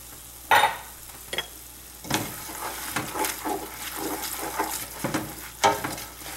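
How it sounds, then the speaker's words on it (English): Onions sauté in olive oil in a pan on a gas range at medium heat, with a soft, steady sizzle broken by close, clattering bursts of stirring. "Now I was sauteing the onions over a medium heat, like a 3 on my gas range."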